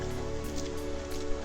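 Rain falling steadily on a rainy Saturday afternoon before a fishing trip, a dense close patter of drops with a constant hiss and a faint low hum underneath.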